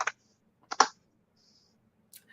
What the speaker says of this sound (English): You were just typing away, man.